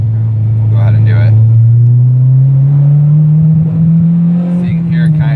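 Car engine under a first-gear acceleration pull, a steadily rising engine drone that stumbles and cuts out around 5000 rpm with a misfire, loud and close.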